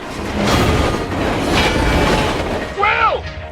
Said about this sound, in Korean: 코너에 진입하는 열차.